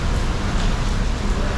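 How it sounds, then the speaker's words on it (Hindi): Steady, dense broadband hiss of heavy rain pouring down in Thailand, constant and loud, with no pauses. "इतनी ज़्यादा अमेजिंग बारिश मैंने बहुत दिनों बाद देखी, और इतनी तेज़।"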